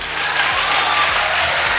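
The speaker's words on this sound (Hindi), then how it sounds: "एक बार इस जज्बे के लिए जोरदार तालियां।" Dense applause from a large audience at a career fair in Bihar, steady and loud throughout, with a low hum running underneath.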